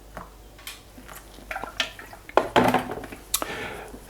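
Moringa powder and warm water stirred in a cup, with close scraping and clinking taps of a spoon against the sides in short irregular bursts, quiet room, no talking.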